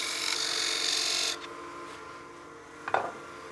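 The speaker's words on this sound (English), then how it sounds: "I can come in here with a spindle gouge, make sure that flute's completely closed. And that'll give me a really nice clean cut." Spindle gouge cutting wood on a lathe: a steady hissing rasp of the cut for about a second and a half, then it stops, leaving a quieter hum and one short knock near the end.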